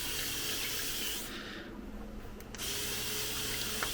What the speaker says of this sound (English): Usually I'm a little more gentle with my spraying